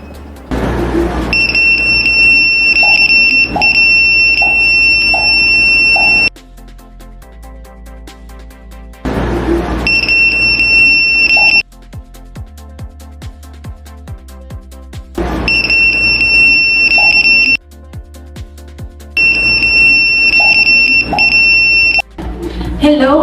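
Buzzer alarm on an ultrasonic blind stick sounding in loud, steady electronic tone bursts of a few seconds each, repeating four times with short quieter gaps between them.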